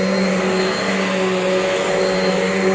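A Bissell Cleanview 12 amp upright vacuum cleaner runs steadily in a living room, producing a loud, constant motor whine and airflow roar with no change in pitch and no talking.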